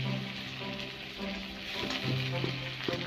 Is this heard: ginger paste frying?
yes